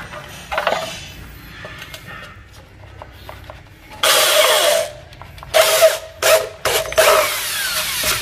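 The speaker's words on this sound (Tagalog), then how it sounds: "Bali itong screw bit, lalagay natin yung screw dito." Power drill with a screw bit driving a screw into metal furring for a ceiling installation: several short, loud whirring bursts with brief pauses between them, close by, following quieter handling noises.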